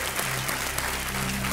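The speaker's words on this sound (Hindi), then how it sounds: "हम आपका अभिनंदन करते हैं और तालियों के साथ आपका हम" Studio audience applause on a televised quiz show set, dense and steady clapping with a faint musical tone underneath, no voices.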